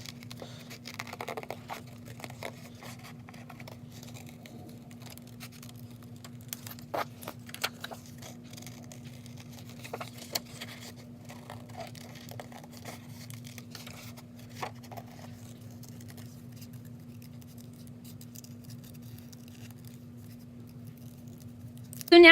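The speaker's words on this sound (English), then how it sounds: "I am just going to trim around the outside with my scissors." Quiet, intermittent scissor snips trimming paper stickers and paper rustles over a steady low hum, the cutting sounds faint and irregular throughout.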